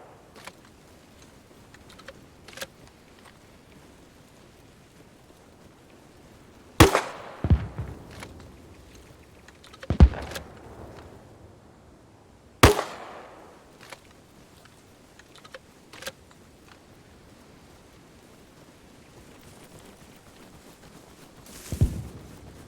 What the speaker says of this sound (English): Let's lob some grenades over there too.